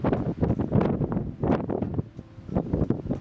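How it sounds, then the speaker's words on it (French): Gusts of wind under a clear blue sky buffet the microphone outdoors in a series of uneven, close, rumbling blasts that rise and fall several times. "rafale de vent, ciel bleu mais rafale de vent"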